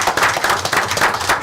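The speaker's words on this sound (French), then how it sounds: "Je pense que ça vaut une bonne applaudissement." Brief, close handclapping in a city council meeting room after a unanimous vote, a few people clapping with an uneven rhythm for just over a second.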